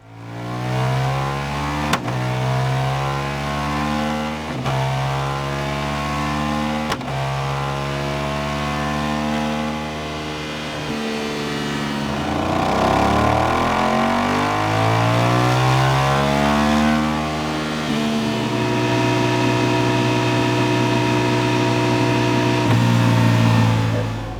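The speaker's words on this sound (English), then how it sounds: "We're going to do the same again, run it up on the dyno, see what difference that's made" A Voge DS900X motorcycle fitted with an exhaust baffle revs on a dyno, loud and close. It blips several times, then runs up through the gears in long sweeping pulls that rise in pitch, and ends at a sustained high roar.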